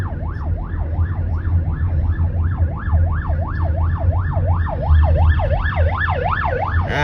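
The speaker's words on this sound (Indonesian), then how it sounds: "Oh ambulansnya di belakang gue lagi, tapi gue nggak bisa minggir." An ambulance siren wails behind a car on a road, a loud, rapidly rising and falling yelp that repeats evenly for about seven seconds over low engine rumble, growing slightly nearer toward the end.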